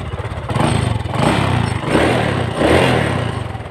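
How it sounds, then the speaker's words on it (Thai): A Honda Dream 125 motorcycle engine runs close by with a steady low putter, surging in several brief revs and easing back between them, with a light mechanical clatter throughout and no talking. "ลองฟังเสียงเครื่องกันเลยครับ"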